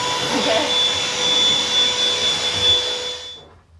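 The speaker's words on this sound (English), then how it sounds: "Vacuum made him get out." A vacuum cleaner runs with a steady, loud whooshing roar and a thin high whine, then winds down and cuts out near the end.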